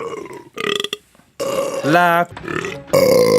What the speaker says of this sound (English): It's a burp.